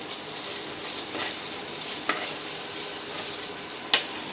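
An egg set into hot oil with dal sizzles evenly and continuously nearby, a soft hissing fry with a few faint ticks and pops scattered throughout.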